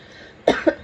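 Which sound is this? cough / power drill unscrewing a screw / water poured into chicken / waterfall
cough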